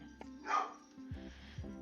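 A dog barks once in a roleplay video game, a single short yelp near the half-second mark, followed by low rumbling game sounds and background noise.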